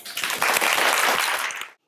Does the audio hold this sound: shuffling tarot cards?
no